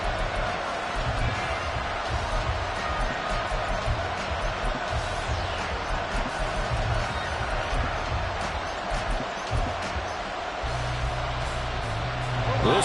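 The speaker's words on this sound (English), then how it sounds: "This crowd turning up the decibel level." Football stadium crowd during a playoff game, a dense sustained roar building steadily over nearly thirteen seconds, loud and unbroken, with occasional thumps beneath it.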